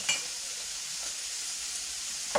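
Bacon frying in a hot pan gives a close, steady hiss and sizzle. Brief rattling bumps at the start and end sound like the pan being shaken, and no one speaks.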